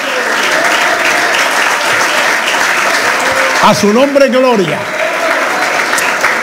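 A church congregation claps steadily and loudly throughout, a continuous rhythmic patter, while a voice briefly calls out over the clapping midway.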